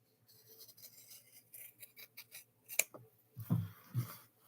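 Scissors trimming embroidery fabric: quiet close rustling handling, then a couple of crisp, distinct snips near the end.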